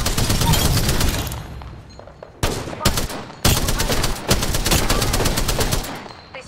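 Close, loud automatic gunfire from Apex Legends comes in several bursts of rapid shots separated by short gaps, with sharp cracks and a dense rattling texture.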